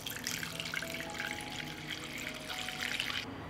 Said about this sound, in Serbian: I nalit ćemo vodu do visine poklopca.